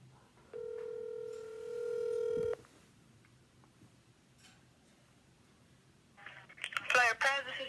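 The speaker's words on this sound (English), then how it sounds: "We're going to dial." Dial tones and touch-tone beeps ring out loud and close on a telephone as a number is dialed, a long steady tone and then a short cluster of rapid keypad tones after a quieter pause.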